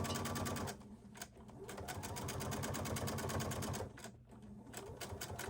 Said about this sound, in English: I'm going to stitch with a 1/4 inch seam allowance right next to that seam, stitching on the yoke part of the shirt